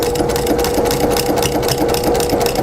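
A sewing machine runs steadily, stitching along the final side of a handmade baby blanket, its motor hum loud and continuous with a fine rapid needle chatter throughout.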